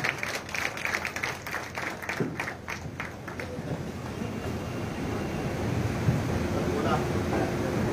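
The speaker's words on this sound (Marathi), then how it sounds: "जोरदार टाळ्या वाजवा होत्या" Audience applause at a Marathi lecture gathering, a burst of claps in the first few seconds fading into a steady crowd murmur with background noise.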